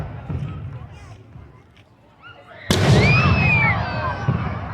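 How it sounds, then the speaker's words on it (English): Fireworks at the 2023 Frankford Riverfest in Quinte West crack into a sudden loud burst, followed by crackling and whistling against outdoor crowd noise, with people talking nearby. "We love the fireworks lighting up the sky."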